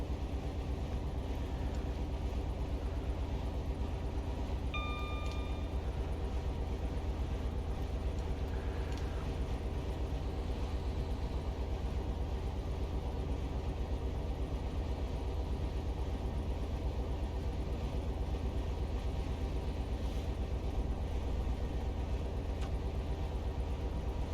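A Class 67 diesel locomotive in Train Simulator Classic runs at a steady low engine drone with constant rumble and hiss, revs unchanging, and a few faint brief tones partway through.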